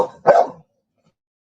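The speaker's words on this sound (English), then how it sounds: "so that's why my dog's going crazy" A dog barks excitedly at cats fighting in a backyard: one sharp, close bark, followed by silence.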